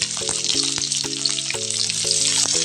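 Onions dropped into hot oil give a bright, continuous sizzle with crackling spatter, steady and close throughout the short moment, under a faint background hum.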